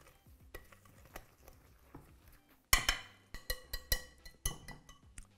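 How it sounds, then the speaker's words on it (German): Vegan lemon cake batter being stirred and mixed in a bowl, starting with soft scraping and then a run of sharper knocks and scrapes of utensil against the bowl, close and fairly quiet. "Alle zusammen mischen."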